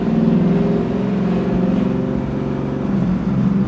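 A supercharged LT4 V8 in a 1968 Camaro restomod pulls away, a deep rumbling engine note rising briefly as it drives off, close and loud, with no talking.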